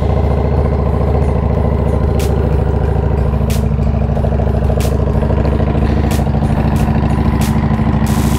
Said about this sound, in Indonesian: Dipanasi dulu motornya bro.